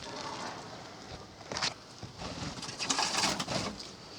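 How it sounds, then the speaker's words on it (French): A crested pigeon in an aviary gives soft cooing calls amid a busy background of other birds, with brief scuffling and rustling sounds nearby. "La colombe lofote."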